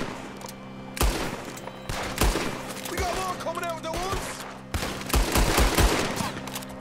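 Gunfire in the video game Red Dead Redemption 2, with several loud, sharp shots fired in irregular bursts against steady game background noise while someone talks in between.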